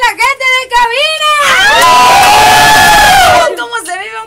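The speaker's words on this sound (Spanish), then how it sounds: "Y un grito de la gente de cabina" A group of people at a birthday lets out a loud, sustained shout together, rising and held for a couple of seconds, framed by brief voices before and after.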